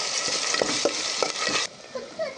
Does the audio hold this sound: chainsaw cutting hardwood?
no